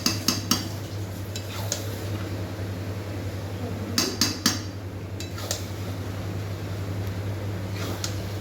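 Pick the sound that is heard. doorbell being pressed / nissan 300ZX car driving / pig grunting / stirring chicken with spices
stirring chicken with spices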